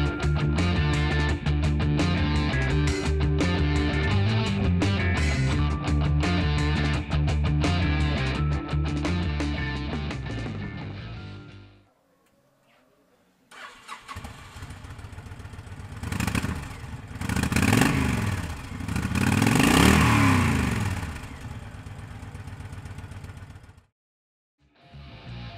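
A 2006 Honda VTX1300C motorcycle engine runs up close, rising and falling in a few throaty revs after a stretch of steady sound and a brief silence.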